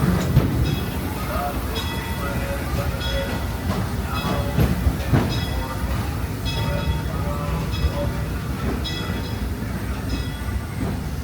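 The Disneyland Railroad train rolls along its rails with a steady rumble and rhythmic clatter, a continuous ride noise with faint intermittent tones over it.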